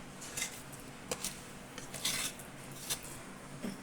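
A spoon scrapes and clinks against a pot while thickened, cooled milk is stirred into a wheat flour sweet, giving several short, sharp metallic scrapes at close range with no talk.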